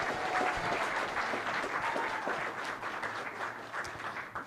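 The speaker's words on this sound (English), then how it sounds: "Clap it up for Aiden, please." Audience at a school board meeting applauding a student of the month, a dense steady wash of clapping from many hands that fades slightly toward the end.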